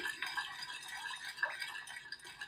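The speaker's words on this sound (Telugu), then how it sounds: "కార్న్‌ఫ్లోర్ కలిసే వరకు కలుపుకోవాలండి" Cornflour being stirred into a milk pudding mixture, a steady close scraping and swishing of a utensil through thick liquid, continuous with faint clinks.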